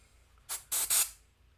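Airbrush spraying paint in three short hissing bursts, the last two longer and close together, near and fairly loud, with a faint low hum underneath.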